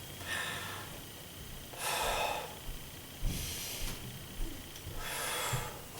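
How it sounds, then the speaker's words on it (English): Breaths demonstrating an inverted breathing pattern, where the chest rises ahead of the belly: three close, airy inhale-exhale cycles, each a soft broadband rush of air, with no talking. "here is an inverted breathing pattern"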